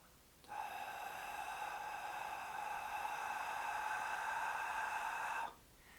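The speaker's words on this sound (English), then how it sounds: "Breathe out." A child slowly breathes out during a meditation exercise: one long, steady exhale of about five seconds with a whistling, tonal edge. It starts and stops cleanly, with no talking around it.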